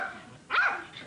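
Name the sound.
dog barking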